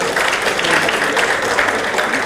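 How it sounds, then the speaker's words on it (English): Conference audience applauding steadily, dense sustained clapping from a crowd with no pauses, loud and close throughout. "Another round of applause."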